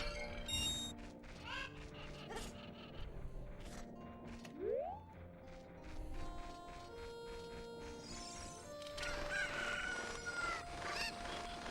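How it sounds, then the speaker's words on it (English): Chicken clucking and crowing in the Nintendo 64 game The Legend of Zelda: Ocarina of Time, mixed with bright game music and sound effects at a steady, moderate level. "We have the chicken, and we are not afraid to use the chicken."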